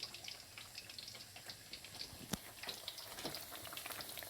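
Lamb kebabs fry quietly in oil, with a faint, steady bubbling sizzle dotted with small pops and crackles. It is low in level and no one speaks.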